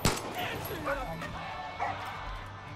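A dog in the video game Far Cry 5 gives several short yips and bow-wows close by, with game ambience and voices running underneath.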